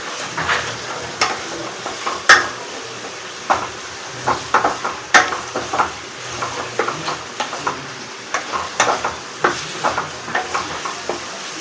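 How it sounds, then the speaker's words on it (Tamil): Chopped onions, three large ones finely cut, stirred and sautéing in a pan for a prawn gravy, with soft sizzling and intermittent scraping and clinking of a spoon against the pan, steady and close with no talk. "இந்த வெங்காயத்தை நல்லா வதக்கி எடுத்துக்கலாம்."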